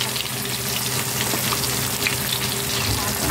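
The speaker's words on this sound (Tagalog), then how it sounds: "Mas maganda kung deep fry." Fish fillet deep frying in plenty of oil, a dense steady sizzle and crackle close up, with no pauses.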